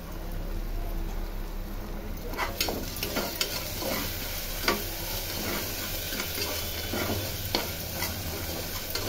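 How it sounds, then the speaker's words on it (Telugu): Ginger paste fries in a pan for a pressure cooker rice recipe. A soft steady sizzle runs throughout, and from partway in a spoon scrapes and stirs in quick irregular strokes. "కొద్దిగా అల్లం పేస్ట్, ఇది పచ్చివాసన పోయేంత వరకు వేయించుకోవాలి ఫ్రెండ్స్ బాగా"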